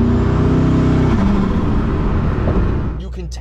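A Koenigsegg Regera, a 1500 hp hypercar with no transmission, accelerates with a loud, steady engine roar and road noise up close, easing off near the end.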